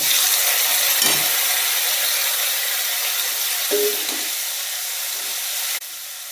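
Tomatoes hit hot oil already holding fried green chili and garlic for a sev tomato curry. A loud, close, continuous hiss of sizzling fills the clip and eases slightly toward the end, with a few faint knocks underneath.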